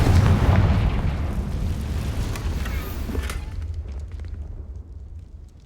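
A Confringo explosion spell in Hogwarts Legacy: a loud, close blast with a deep rumbling boom that slowly fades over several seconds.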